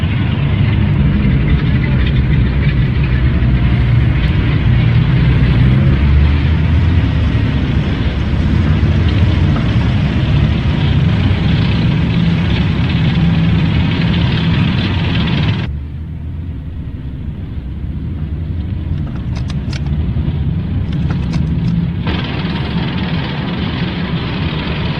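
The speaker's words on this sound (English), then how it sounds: "these aren't Panzers, these are half-tracks and armoured cars, plus just Jeeps" Half-tracks, armoured cars and Jeeps rumble past in a loud, continuous drone of engines and tracks, dropping suddenly to a quieter, steady idle-like rumble partway through, with no talk.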